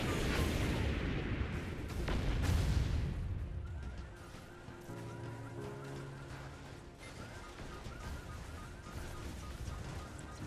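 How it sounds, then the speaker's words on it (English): Missile explosions in the Robocraft video game boom loudly and heavily in the first few seconds, then fade into a quieter stretch of engine hum and distant rumbling. "I'm getting shot at by missiles all the time."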